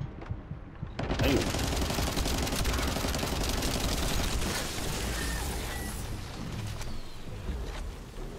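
Sustained machine gun fire in The First Descendant, a rapid continuous burst of loud shots running almost without pause before tapering off near the end.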